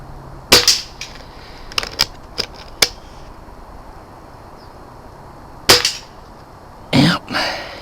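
A rifle fitted with a Vector Optics Grizzly 1-6x24 LPVO scope fires at a target, giving about seven sharp, dry cracks at irregular intervals, several in quick succession, then a longer pause before the last few, over a quiet background with no talk.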